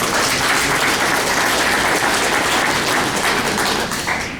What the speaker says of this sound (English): so if we want to give Rachel a round of applause.